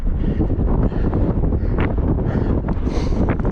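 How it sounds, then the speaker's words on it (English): Strong wind gusts buffet the microphone on a high Sierra mountain ridge, roaring loud and close throughout with constant rough rumbling. "Some pretty strong gusts up here."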